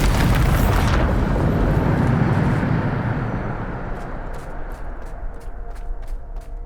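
A Bombarda blasting spell goes off in Hogwarts Legacy, a loud close explosive roar that rolls on as a broad rumbling wash and slowly fades, with faint rhythmic ticks near the end.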